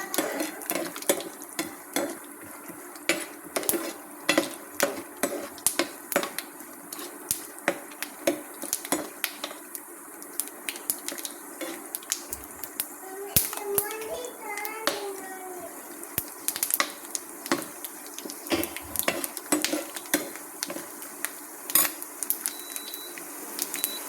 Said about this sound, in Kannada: ಸಾಸಿವೆ ಜೀರಿಗೆ ಹಾಕೊಂಡ್ರೆ ಸಿಡಿದ್ಮೇಲೆ ಇಲ್ಲೇ ನಾನು ಶೇಂಗಾ ಸ್ವಲ್ಪ ಬಾದಾಮಿ ಹಾಕೊಂಡಿದ್ದೆ